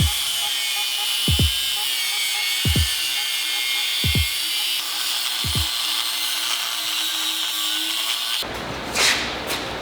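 An angle grinder cuts across the face of a Damascus steel billet with a loud, sustained high whine, broken by several short dips as the cut eases, then a harsher burst near the end.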